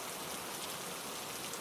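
Steady rain falls continuously, an even hiss of many drops with no voices or other sounds.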